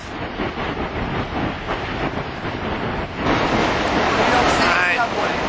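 A steady, loud rumble of traffic on a cobblestone street with railroad tracks near the Brooklyn Bridge, growing a little heavier toward the end, with wind buffeting the microphone.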